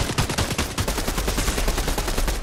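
Dense, continuous gunfire from the Fortnite video game, with rapid overlapping shots rattling at a steady pace throughout, loud and close with no pause.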